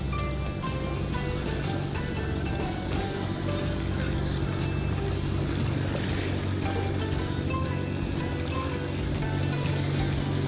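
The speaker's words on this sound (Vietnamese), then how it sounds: "Kia có một chiếc ghe đang chạy vào." A motorboat runs in toward the shore at sea off Phu Quoc, Vietnam, its engine a steady low drone mixed with lapping waves and wind, continuous throughout.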